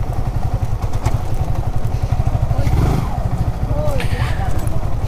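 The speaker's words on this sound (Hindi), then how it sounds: "अभी बाइक वगैरह कहाँ पे पार्क करूँगा इसको देखना पड़ेगा हमें।" A motorcycle engine thumps in a steady, rapid low pulse while being ridden up to a fair in the evening, loud and close, with occasional clatter and a voice talking over it.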